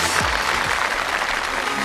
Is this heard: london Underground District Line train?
no